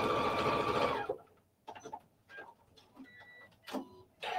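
A loud burst of sewing machine motor whir stitching fabric scraps with all-purpose thread for about a second, then quiet scattered clicks and handling noises.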